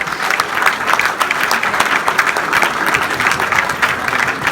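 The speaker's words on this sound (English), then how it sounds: "Can we give these guys an applause" Steady, dense applause from a church audience fills the room at close range, holding at an even loudness without any voice over it.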